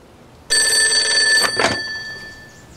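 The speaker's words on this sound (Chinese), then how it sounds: "师座，电话。" A desk telephone rings at a wartime army headquarters, one loud, close, continuous bell ring of about a second followed by a fading ringing tail, with no voices.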